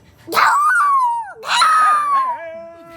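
A person imitates a dog with two drawn-out, whining barks that rise and fall, loud and close, separated by a short pause.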